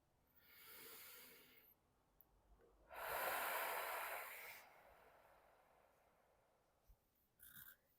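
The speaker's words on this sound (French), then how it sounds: "Une dernière grande respiration." A deep breath during a relaxation exercise: a soft, close inhale, then a longer, fuller breathy exhale, both quiet and hissy, followed by near silence and a faint rustle.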